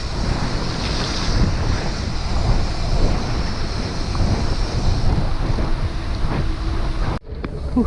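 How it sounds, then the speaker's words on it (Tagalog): Ocean waves and surf wash steadily along a coastal road during a bike ride, mixed with strong wind buffeting the microphone; the broadband roar is continuous, then cuts out sharply near the end. "Uy, tubig."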